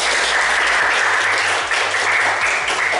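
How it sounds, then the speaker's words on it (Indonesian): A classroom of students claps together in sustained, dense applause that fills the whole stretch at a steady loud level, with no talk over it. "Aplaus untuk kita semua."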